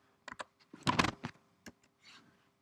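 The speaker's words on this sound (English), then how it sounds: "I'll just type that in myself." Typing on a computer keyboard while entering a spreadsheet formula: a handful of close, irregular key clicks in short clusters, with a brief heavier flurry in the middle.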